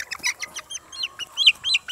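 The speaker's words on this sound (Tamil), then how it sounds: "இதுதான் ஒரிஜினல் கருங்கோழி." A Kadaknath black chicken clucks rapidly in a quick run of short, sharp notes, close and clear, with no other sounds around it.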